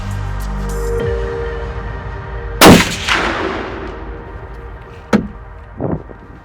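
A single loud, close rifle shot fired at a whitetail deer cracks out and rolls off in a long echo, followed later by a couple of fainter thumps.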